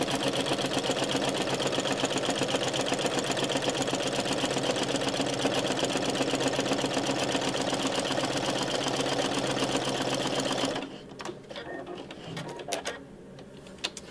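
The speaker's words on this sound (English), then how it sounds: "I'm gonna sew a line here." A sewing machine runs steadily, stitching a line through fabric with white thread for a paper-pieced quilt block, a close, continuous rapid mechanical chatter for about eleven seconds before it stops, leaving faint handling noises.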